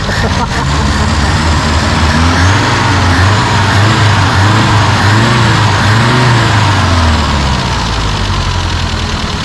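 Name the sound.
engine starting and revving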